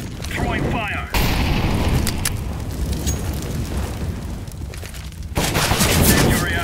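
An incendiary grenade thrown in a Counter-Strike: Global Offensive tournament match: a loud burst and rushing, roaring noise of fire and explosions, sustained and dense, with a few brief voice sounds mixed in.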